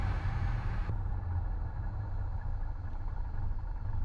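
Light aircraft piston engine idling on the ground before a cross-country flight, a steady low throbbing rumble that holds even throughout.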